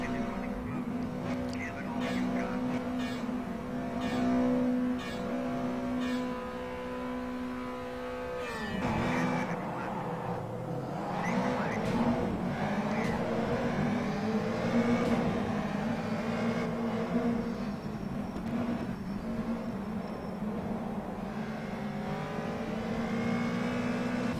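A BMW M5 race car in rFactor 2 at Brands Hatch drones with a sustained engine note that drops and then climbs again in pitch under gear changes, loud and continuous, with someone talking over it.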